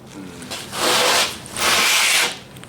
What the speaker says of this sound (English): That's what the rasp does.